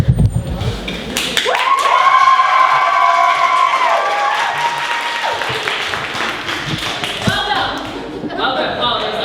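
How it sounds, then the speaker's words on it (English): An audience at a haunted scare-season attraction bursts into loud clapping and cheering, a dense crowd roar that swells, holds for several seconds, then thins, with voices shouting over it. "Everyone stand up and clap and cheer."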